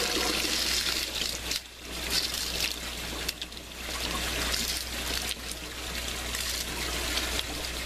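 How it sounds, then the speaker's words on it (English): Water overflowing in an aquaponics grow tower system, a continuous close trickling and splashing flow over a steady low hum from pumps. "I hear something overflowing right here."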